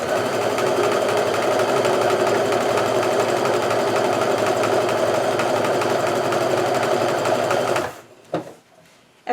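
A sewing machine runs continuously at speed as it stitches quilt fabric strips, a loud, even mechanical whir that stops abruptly near the end, followed by a few brief handling knocks.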